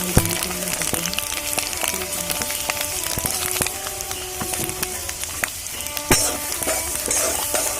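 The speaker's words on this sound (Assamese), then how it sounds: "এতিয়া আচাৰ বনাবৰ কাৰণে মই তেলখিনি গৰম কৰি যিখিনি মছলা আগতে দেখুৱাইছিলোঁ সেইখিনি এতিয়া তেলত দি ল'ম।" Roughly crushed whole spices fry in a little hot oil for a homemade Assamese pickle, with continuous crackling sizzle, sharp pops and light stirring throughout.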